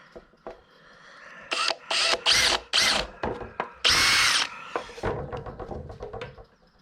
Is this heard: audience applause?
no